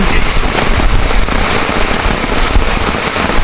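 Heavy rain pours down on a fishing outing, a loud, dense, continuous hiss and patter with no pauses.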